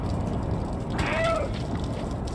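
In the video game Stray, the cat lets out a single short meow partway through, heard clearly above a steady background hum of the game.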